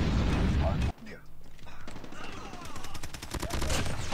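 Call of Duty Mobile assault-rifle gunfire, loud overlapping bursts at the start, then rapid regular shots building toward the end with game effects and voices mixed in.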